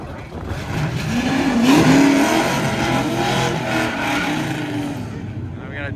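Drag racing cars launch at Hot Rod Drag Week, a loud roaring engine wash rising and holding with a rising rev tone, while a voice talks over it.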